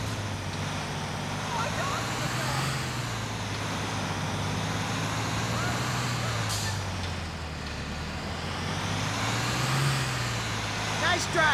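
A car driven in Grand Theft Auto IV, its engine a steady drone that rises and falls with speed, heard continuously at moderate level with game voices talking over it.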